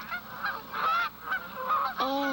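Several geese or ducks honking in passing flight overhead, a string of nasal calls coming in short overlapping bursts, fairly close and clear, with no talking over them.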